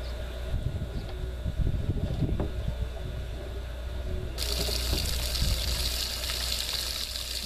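Tap water runs steadily into a 5-gallon bucket in an aquaponics grow tower setup, a continuous close splashing and gushing that swells into a brighter, louder hiss partway through as the flow strengthens.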